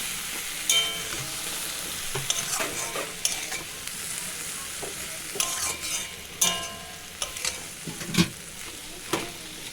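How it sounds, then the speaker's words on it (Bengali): Potatoes and long beans are stir-fried in a pan with poppy seed and chili paste and spices, making a steady sizzle under repeated sharp scrapes and clacks of a spatula stirring close by. "মশলা দেওয়ার পর 2 মিনিট ধরে আমি ভালো করে সবজিটা মশলার সাথে কষিয়ে নেব।"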